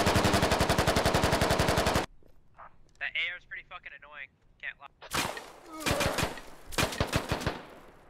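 Automatic gunfire in the military shooter Squad, with a loud, fast, steady burst of rounds, then a pause under commentary, followed by further close bursts and single shots mixed with talking.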